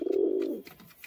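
A pair of Giribaz and Madras pigeons gives one close, low coo that trails off quickly, with nothing else around it.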